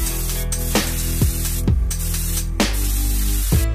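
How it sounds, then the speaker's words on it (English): An aerosol can sprays black paint onto parts, including a Subaru Impreza snorkel, in a run of short, loud hissing bursts separated by brief pauses, close to the microphone. "Spraying something black, for example, you pop something else in that you're going to spray back as well"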